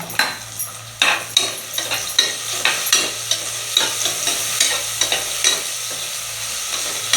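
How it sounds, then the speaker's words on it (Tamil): Crushed ginger and garlic sautéed in a pan for a mushroom biryani, with a steady sizzle and a run of sharp spoon scrapes and clinks against the metal, close and unhurried, no voices. "இஞ்சி பூண்டு நம்ம பச்சை வாசனை போகிற வரைக்கும் வதக்கி விட்டுட்டு"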